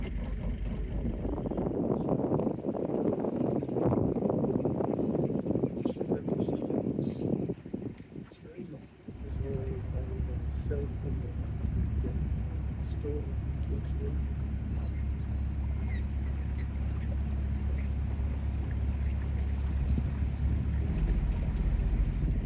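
Wind buffets the microphone over the deep, steady drone of a small passenger ferry's engine crossing to Shaldon, with people talking intermittently throughout.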